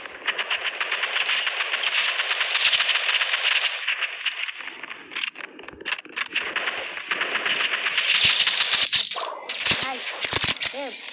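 Assault rifle gunfire in a video game, dense rapid bursts mixed with rattling, clanging and metallic pings, loud and close under game sound effects.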